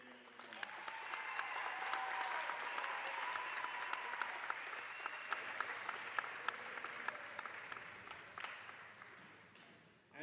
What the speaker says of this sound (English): Let's give our band a big round of applause.